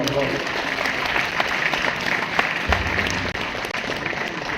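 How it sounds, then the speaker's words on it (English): A crowd at a school inauguration ceremony breaks into sustained applause, a dense, even wash of clapping with scattered sharper claps and a brief low thump partway through. "Big round of applause."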